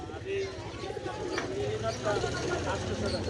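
Pigeons coo faintly beneath steady crowd chatter at a busy street pigeon market in Mirpur-1, Dhaka, where giant homers are being sold.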